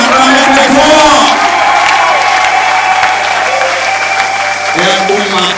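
Church congregation at a Sunday service in Luanda clapping and cheering loudly for a visiting pastor, a dense burst of applause with whoops that stays strong throughout, with a voice speaking over it.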